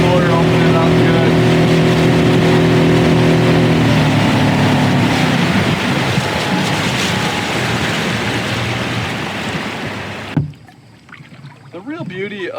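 A 2020 StealthCraft 14ft Pintail boat's outboard motor roars loudly and steadily, its hum shifting as it opens up, then cuts out near the end, leaving quieter water and a voice.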